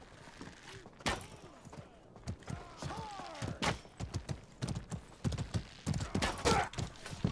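Horse hooves in the medieval combat game Mordhau, a busy run of clip-clop thuds mixed with clashing battle noise, close and fairly loud.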